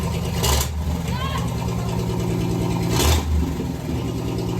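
A Ram Promaster's Pentastar 3.6 engine running with no muffler, a loud raw exhaust drone with two sharp revs rising and falling, and people talking over it.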